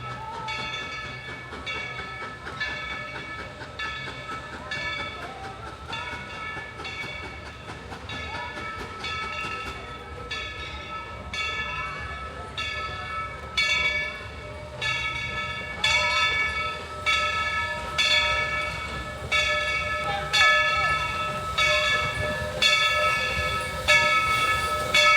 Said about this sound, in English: Let's see if we can make it over here to the train.